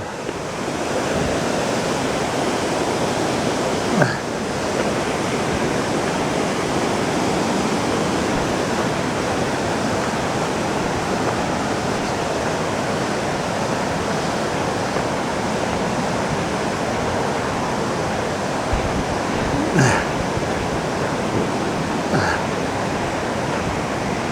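Bond Falls waterfall in the Sylvania Wilderness area roars as a loud, dense, unbroken wash of rushing water, with a couple of brief voices faintly over it.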